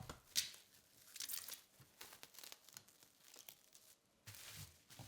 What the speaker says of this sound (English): For convenience, I wrap the bamboo mat in plastic wrap.